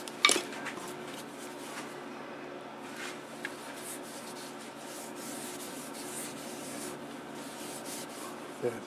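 Sandpaper rubbing steadily across a spalted Norway maple bowl, a continuous soft scratchy hiss with a brief louder scrape at the start and near the end, no voices.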